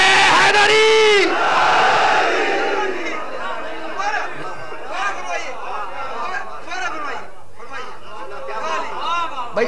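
A large crowd at a religious gathering roars a loud collective chant of the slogan "Naara-e-Haidari" at the start, then a lively babble of many voices and shouting continues throughout.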